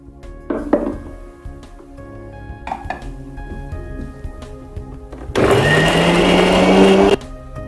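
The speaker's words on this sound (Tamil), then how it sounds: "அடுத்து நம்ம பூண்டு அரைச்சிக்கலாம்." A kitchen blender grinds garlic in a loud, steady whir lasting about two seconds near the end, preceded by scattered clinks and small handling knocks.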